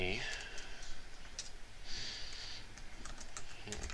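Quick bursts of key clicks from someone typing a password on a computer keyboard, close and fairly quiet, with faint breathing in the background.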